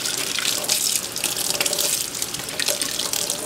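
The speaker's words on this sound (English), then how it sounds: "You're going to rinse it off real good with that skin peeled down." Corn with its husk peeled down is rinsed under a running kitchen tap, a steady, close hiss of flowing water splashing into a sink throughout, with no talking.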